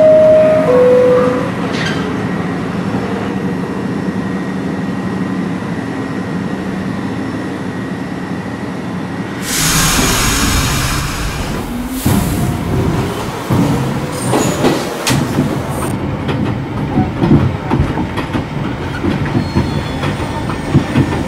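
An R62A subway train on the 6 express in Trainz 12 runs along the track with a steady rolling drone. Partway through, a sudden burst of broadband rushing noise is followed by clattering wheel clicks and squeals.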